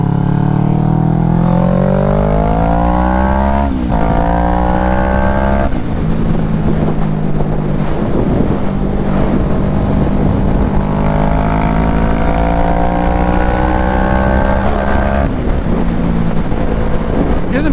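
A motorcycle engine revs up and down repeatedly with rising and falling pitch, loud and close under steady wind noise, with a few brief crackling pops on the throttle.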